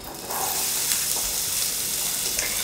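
Courgettes hitting hot olive oil in a pan, a steady bright sizzle and crackle that starts abruptly and continues evenly, close and alone without talk.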